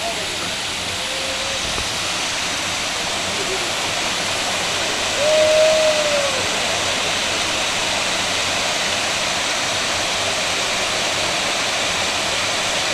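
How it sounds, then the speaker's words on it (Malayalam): Water rushes out of the two opened shutters of the Kundala dam, each raised by 10 centimetres, in a loud continuous roar that holds steady throughout with no speech. "ഷട്ടറുകൾ 10 സെന്റിമീറ്റർ വീതം ഉയർത്തിയാണ് വെള്ളം പുറത്തേക്ക് ഒഴുക്കുന്നത്"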